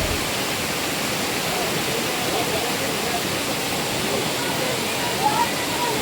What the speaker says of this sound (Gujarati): એટલો પાણીનો અવાજ તમે ખાલી સાંભળવાનો